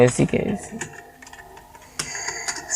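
Typing on a computer keyboard, a few quick key clicks under a voice speaking early, then a short run of louder taps near the end.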